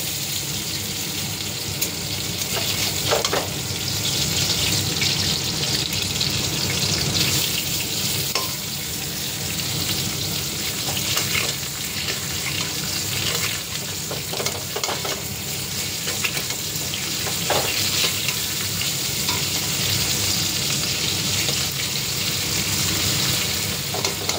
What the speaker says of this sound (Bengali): এখন মূলা শাকের ঝোল শাক বানানোর জন্য কটা মাছ ভেজে নিচ্ছি।